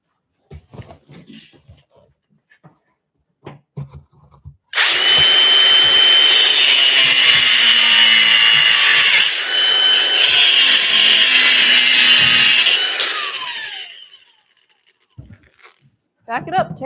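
A power tool cuts through a metal car fender in a garage, a loud, harsh, sustained grinding whine lasting about nine seconds with a brief dip midway, framed by scattered clatter and short bursts of talk.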